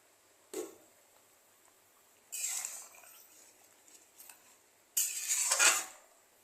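A metal lid set over a pot of rui fish curry on the stove, giving a few short clanks and scrapes in separate bursts amid quiet pauses, close and fairly clear.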